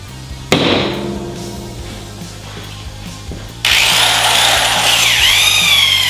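A sharp knock is followed by low machine hum, then a power polisher kicks in loudly with a whirring, shifting whine while buffing the front bumper of a 1997 American Dream motorhome.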